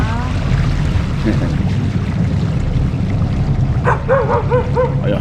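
Dogs bark and yip on a boat trip across the Balbina hydroelectric lake, a short burst of several barks near the end of the clip over a steady engine and water rumble, with people talking.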